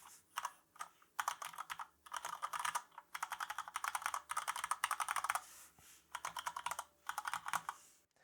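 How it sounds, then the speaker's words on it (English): Quick bursts of typing on an Alienware AW920K wireless mechanical gaming keyboard with red switches, close and fairly soft clacking keystrokes in rapid runs separated by short pauses, no voices. "I want to have a quick type first to see how these red switches feel"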